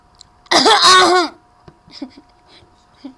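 A single loud, harsh cough close up, followed by quieter throat sounds and small noises.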